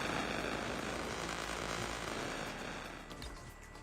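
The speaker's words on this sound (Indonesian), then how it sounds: "Drone." Drone flying in a Call of Duty video game, a continuous buzzing whir with a steady airy roar that fades a little toward the end.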